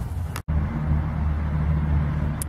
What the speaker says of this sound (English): I hope you guys can hear me over the traffic.